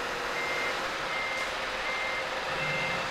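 Reversing beeps from a heavy truck in a truck driving video game, a steady repeating alarm over a constant engine drone, loud and close throughout.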